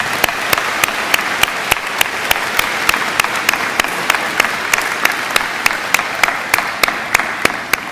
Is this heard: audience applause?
yes